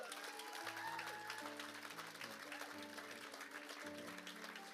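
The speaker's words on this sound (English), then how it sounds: "Give the Lord a clap." A church congregation claps together for several seconds in a dense, continuous patter, while sustained organ or keyboard chords play quietly underneath.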